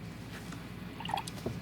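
A watercolor brush is rinsed in a jar of clean water, giving a few soft drips and liquid swishes, faint and close, with light splashy clicks near the end.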